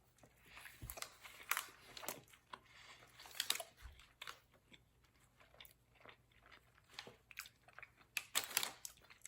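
Someone chews a Dick's Drive-In fast-food cheeseburger from Edmonds near Seattle, with close, soft bites and crunchy, moist chewing in irregular bursts and pauses, and no talking.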